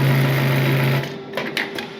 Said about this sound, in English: How not to use a sewing machine.